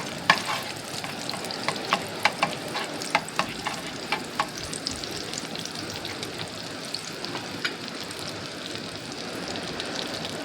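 Butter sizzling steadily in a frying pan while cooking oyster sauce for fried fish fillet, a dense crackling hiss with scattered sharper pops and faint stirring, continuous and close, no talking.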